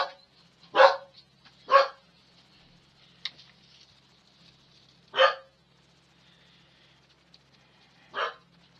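A dog barks indoors in another room at a home workspace, with four separate single barks spread out and set back at a moderate distance, no talking over them.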